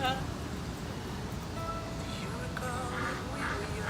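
Ducks quack at Belleville Pond, with several calls rising over a steady outdoor background while people talk nearby.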